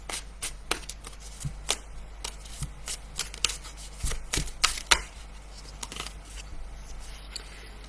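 A card is drawn from a deck during a new moon reading, giving crisp, close paper snaps and flicks in irregular clusters that sound like sharp shuffles, with no voices.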